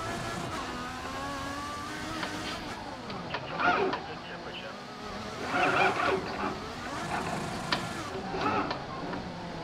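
Race car engines whining and revving with tire squeal as a car spins in a PC racing game played on a Logitech Driving Force GT wheel, steady engine drone throughout.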